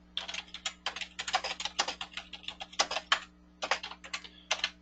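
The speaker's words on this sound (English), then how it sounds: "I type in my note," Fingers tap out a note on a computer keyboard in quick, uneven bursts of clicks with short pauses, close and clear over a faint steady hum, with no talking.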